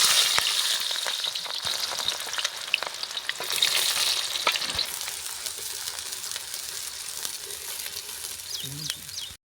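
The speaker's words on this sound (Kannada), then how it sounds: "ಎಣ್ಣೆ ಕಾಯಿ ಐತಿ ಉಳ್ಳಾಗಡ್ಡಿ ಹಾಕ್ತೀನಪ್ಪ" Chopped onions sizzle and crackle in hot oil in a pan while cooking gobi manchurian, a steady loud frying hiss with occasional pops and stirring, and no talk.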